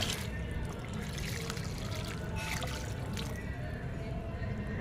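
Water is poured generously onto potted plants at dusk, a steady, close trickling and gurgling stream that runs throughout.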